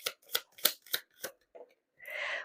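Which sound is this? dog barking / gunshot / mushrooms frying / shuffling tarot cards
shuffling tarot cards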